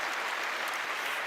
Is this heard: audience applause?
yes